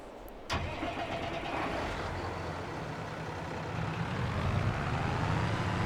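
Tractor engine in the Farming Simulator 22 video game cranks over and settles into a steady, mid-pitched running drone that grows slightly louder toward the end, with no talk.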